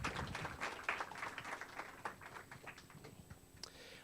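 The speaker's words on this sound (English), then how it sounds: "Let's get one more round of applause to all of our presenters tonight" Applause from an audience at a pitch night open house, honoring the presenters; moderate, uneven clapping of a smallish crowd that gradually thins and fades.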